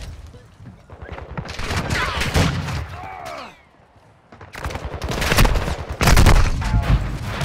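Sustained bursts of automatic gunfire from a Call of Duty match on PS5 rattle loud and close, pausing briefly midway before heavy volleys resume, with faint game voice callouts mixed in.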